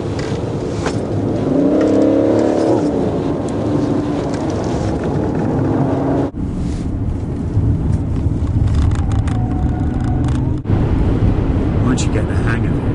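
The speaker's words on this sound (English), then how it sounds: "it flows beautifully through fast corners, like these" A BMW 530d F10 sedan with its diesel engine driving through fast corners, heard as a steady loud drone with road and wind roar, engine note rising briefly early on.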